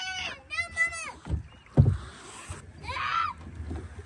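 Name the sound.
rowing a boat on Hainault Forest lake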